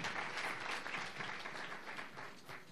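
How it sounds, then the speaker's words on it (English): An audience at a Teacher of the Year ceremony applauds the CEO of Prince George's County schools, a steady, dense round of clapping from a large crowd that holds throughout and fades slightly at the end. "And I want to thank you for that applause"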